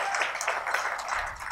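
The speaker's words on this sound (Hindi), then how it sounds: "एक बार जोरदार तालियां बजा दीजिए" An audience at a mushaira and kavi sammelan poetry recital in Mumbai claps steadily, a dense, moderately loud patter of many hands continuing throughout with no voices.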